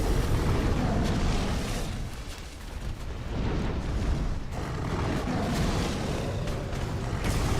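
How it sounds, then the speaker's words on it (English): A boss exploding in Dark Souls 2, a sustained heavy roaring blast that dips briefly then swells again, loud and rumbling throughout with no clear pauses. "He's gonna explode."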